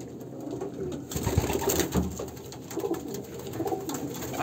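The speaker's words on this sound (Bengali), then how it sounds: "দেখুন উপরে একটা বসে আছে কালাঙ্কা।" A Kalanka pigeon of an Andhra pure blood line coos close by in a loft, low throaty coos repeating over a few seconds with faint rustling and no talk.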